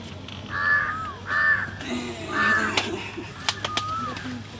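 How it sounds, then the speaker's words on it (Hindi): Several crows caw nearby in harsh, repeated calls spaced a second or so apart, with a few sharp knocks and some faint background chatter between the calls. "कौआ मैना सब तते घुस जाय है"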